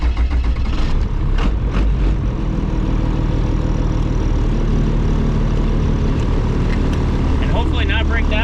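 Diesel-swapped Camaro engine droning steadily while driving on the road, with a loud continuous low rumble and road noise and brief bursts of louder activity near the start.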